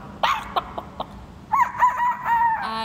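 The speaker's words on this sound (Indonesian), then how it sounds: "Ada ayam." A chicken clucks in a few short, close bursts, followed by a longer drawn-out crowing call.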